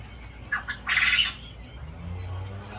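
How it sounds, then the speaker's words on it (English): Quails being moved into a new enclosure give brief squawking calls, a couple of short chirps followed by a louder rasping squawk, close by with low background rumble. "Don't mind all the quail noises"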